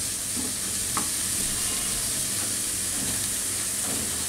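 Spices and tomato rice fry in a pan with a steady, close sizzle and hiss, broken by a few soft stirring scrapes; no one talks.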